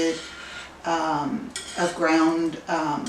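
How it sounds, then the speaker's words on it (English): A spoon stirs stovetop mac and cheese made with milk, cheese, sodium citrate and ground mustard in a pot, giving close, intermittent scrapes and clinks against the metal over about three seconds. "So right now I'm just gently stirring"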